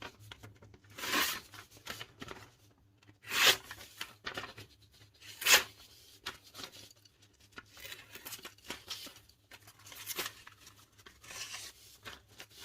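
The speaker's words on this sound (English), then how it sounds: "not able to cut the newspaper" A Morakniv Classic 2 F knife with fingerguard drags across newspaper without cutting it, giving several separate scraping, tearing rustles. The bursts are close and crisp, with quiet gaps between them.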